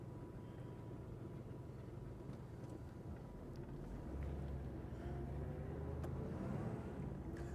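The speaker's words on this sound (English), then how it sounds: "We're taking her for a little spin, and let me tell you guys, she's peppy." A 1962 Chevrolet Corvette restomod with Holley Sniper EFI drives along. Its low engine drone runs steadily, quiet at first, and grows somewhat louder and fuller about halfway through, with no speech.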